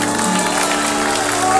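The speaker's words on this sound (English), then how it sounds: "Can you clap your hands" Concert audience at an outdoor summer music festival clapping hands, a steady wash of applause with some crowd noise and a sustained musical tone beneath it.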